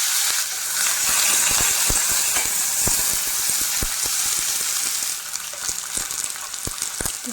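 Chopped onions sizzling in hot mustard oil in a pan, a dense continuous frying hiss with scattered crackles and pops, close and alone.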